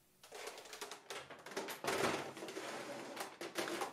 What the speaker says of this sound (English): I have a new typewriter.